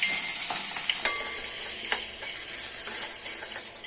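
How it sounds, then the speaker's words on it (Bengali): Eggplant pieces frying in leftover oil in a pan for a Bengali fish-head and Malabar spinach dish, stirred with a steady close sizzle and a few sharp spatula clicks, no talking. "বেগুনের টুকরোটাকেও নেড়ে চেড়ে লালচে করে ভেজে"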